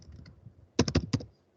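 Quiet, sparse keystrokes come first, then a quick burst of five or six sharp clicks on a computer keyboard while entering Linux shell commands, followed by silence.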